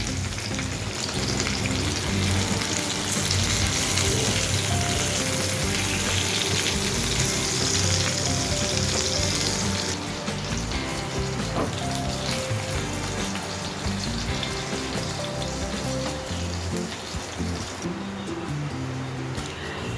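Katla fish frying in a mix of ghee and oil gives a dense, continuous loud sizzle that eases slightly midway as the pieces are lifted out of the pan.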